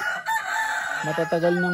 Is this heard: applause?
no